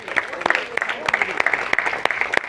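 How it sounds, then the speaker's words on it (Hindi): A few people at a parent-teacher meeting clap sparsely, with sharp, scattered hand claps in an uneven rhythm, close by and mixed with ongoing talk. "भले भाई के लिए एक बार ताली बजाओ"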